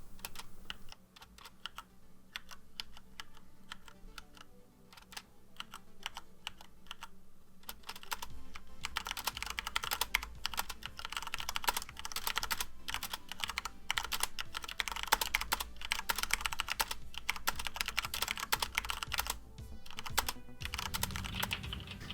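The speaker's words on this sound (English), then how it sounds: "I want to give you guys a quick sound test of the Cherry MX Red switches, which are built into the keyboard right here." Cherry MX Red switches on a Corsair K65 RGB keyboard are typed on, soft sparse key presses at first, then a denser, louder run of rapid clicky strokes for the rest, with no voices.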